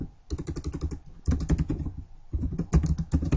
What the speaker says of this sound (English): So what I'll do is I'll type in Florida